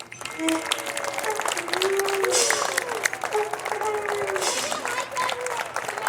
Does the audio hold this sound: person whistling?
no